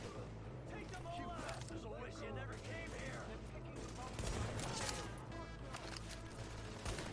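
Gunfire, including sniper shots, cracks through a riot-filled street battle in The Division, with sharp shots scattered throughout under a constant loud layer of game noise while a player talks over it.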